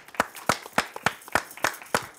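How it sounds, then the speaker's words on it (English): A small group of people claps in time at an audition, with eight sharp, evenly spaced claps, close and crisp, with no voices heard over them. "Let's clap it up."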